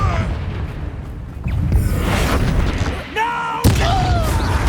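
Booming spell explosions from the Confringo fire curse in Hogwarts Legacy go off in loud bursts amid a dense, noisy battle din, with a sharp blast near the end.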